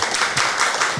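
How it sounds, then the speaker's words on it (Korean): Brief, lively audience applause welcomes a priest at a Catholic communications association retreat and pilgrimage at a shrine: a quick burst of many hands clapping close by. "박수로 맞이해 주시면"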